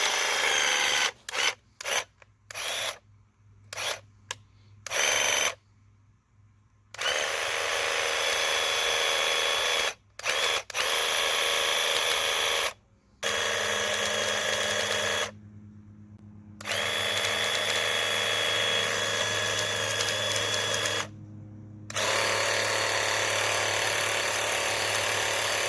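A Graco TC Pro cordless handheld airless sprayer runs water through, giving a loud steady mechanical drone that starts and stops repeatedly, with one longer continuous run in the middle.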